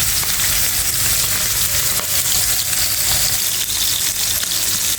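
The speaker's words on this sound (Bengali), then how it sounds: "মাছটা দেখো একটা পাশ ভাজা হয়ে গেছে আর একটা পাশ আমি উল্টে দিচ্ছি" Puthi fish sizzles loudly in hot oil, a steady dense crackle and hiss filling the whole stretch without pause.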